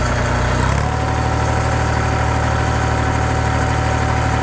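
A tractor fitted with clamp-on forks, working a Japa 365+ Pro firewood processor, idles with a steady, loud engine drone that shifts slightly in pitch early on and then holds constant throughout.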